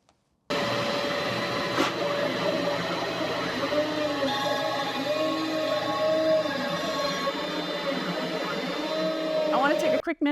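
A CNC router carves a V-groove into a wooden board for an outdoor bench, a steady whining drone with rising and falling tones as the bit moves, running continuously before cutting off abruptly at the end.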